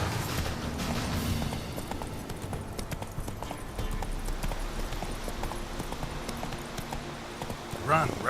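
Geralt's horse Roach gallops in The Witcher 3, a dense rapid hoof rhythm on the ground that runs for several seconds, close and steady under game music and ambience, with a voice speaking over it.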